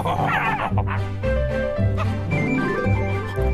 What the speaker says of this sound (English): barks Sniff